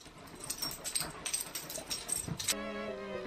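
A dog whimpers indoors in short, faint, high whines spread across a few seconds, followed by a brief steady tone at the end.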